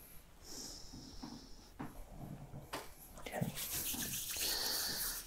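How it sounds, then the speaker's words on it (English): Tap water running while hands are washed at a sink beside a hospital bed, a rushing splash that builds louder toward the end after faint rustling and clicks, with no talk. "I'm just going to go and wash my hands, okay?"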